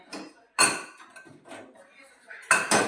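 Steel cups and utensils clatter and clank on a kitchen rack in sharp, close bursts, with a loud knock early and a double clatter near the end.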